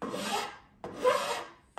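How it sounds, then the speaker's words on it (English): A hand file rasps along a carved wooden bass neck in two long, close strokes with the start of a third, each a dry scraping rub that swells and fades. "I'm just going to use a file like this and just kind of roll them over."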